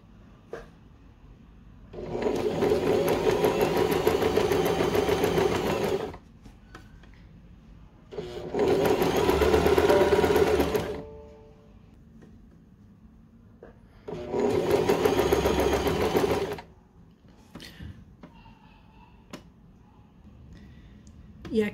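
A sewing machine runs straight seams through satin fabric for a satin cap, three steady bursts of stitching a few seconds each with quiet pauses and small handling clicks between.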